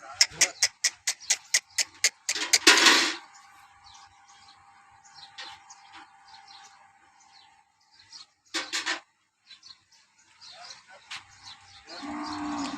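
A cow that calved two days earlier moos loudly and close by in Banaskantha, Gujarat, with a few long calls separated by quieter stretches, following a quick run of sharp clicking sounds at the start.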